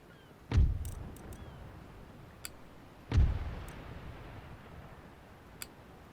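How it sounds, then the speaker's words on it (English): Cannons on warships fire in Empire Total War naval combat: two heavy, booming shots about two and a half seconds apart, each with a rumbling tail over faint background ambience, no talk. "Well, now he fired his front cannons."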